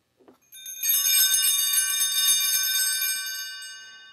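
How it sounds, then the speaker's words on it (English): Church bells ring to announce the start of Mass, a bright sustained peal of layered metallic tones that swells quickly after a brief soft knock and then slowly rings out and fades, with no voices. "What you heard was just the bells."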